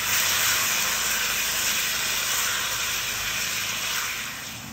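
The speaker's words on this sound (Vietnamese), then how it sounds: "bây giờ dầu nóng mình sẽ cho cái phần sườn mà mình đã ướp rồi vào trong đây" Marinated pork ribs sear in hot oil in a pan, giving a loud, continuous close-up sizzle and hiss that holds steady and then eases slightly at the end, with no talking.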